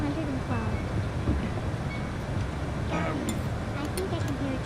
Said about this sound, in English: I think I can hear a train coming.